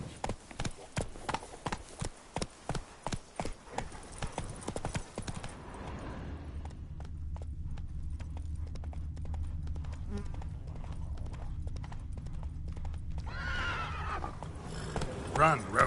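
Roach, a horse, trots with quick, regular hoof clip-clops for the first several seconds. Then the hoofbeats stop, a low steady rumble takes over, and faint clicks come through before it swells again near the end.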